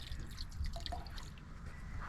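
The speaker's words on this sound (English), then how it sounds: "Once you got it filled with water, all I do is put Dawn dish soap in there." Dawn dish soap drips and trickles into an ultrasonic cleaner filled with water, a few faint liquid plinks over a steady low background hum.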